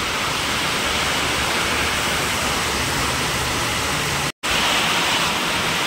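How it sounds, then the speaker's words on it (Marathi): Heavy rain pours in a loud, unbroken roaring wash, with a brief cut near the end before the downpour resumes at full strength. "जोर वाढला मित्रांनो पावसाचा,"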